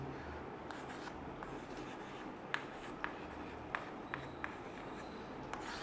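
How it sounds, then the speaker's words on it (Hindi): A pen writes out a table of chemical elements on paper, faint close scratching strokes with a few sharper taps as letters are finished, over quiet room hiss and with no talk. "तो हम सबसे पहले लिख रहे हैं आपके एलिमेंट्स।"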